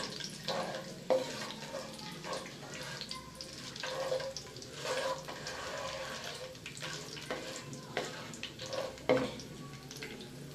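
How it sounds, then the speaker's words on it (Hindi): Whole garam masala spices frying in a pan for egg korma, a steady soft sizzle with intermittent clinks and stirring scrapes. "और इसमें साबित गरम मसाला ऐड करेंगे। और थोड़ा सा कुक करेंगे।"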